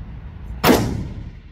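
A single sharp gunshot from a Daniel Defense DDM4V7 rifle, fired at a target, lands loud and close and then tails off into a brief ringing decay.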